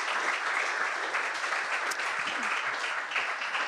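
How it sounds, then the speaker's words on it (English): Audience applauding at the end of a talk, a steady, full burst of clapping that stays even from start to finish with no voices over it. "I think we can give you a round of applause."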